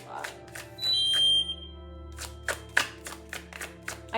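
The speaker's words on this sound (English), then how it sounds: "Sounded like a fire alarm." An indoor fire alarm gives a brief loud electronic tone, followed by a string of sharp claps or knocks, all fairly close.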